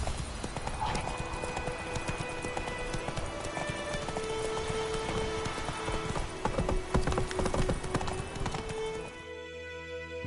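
Roach, the horse from the video game The Witcher 3, gallops in a steady clip-clop of hooves with an occasional whinny, loud and continuous over game music and ambience.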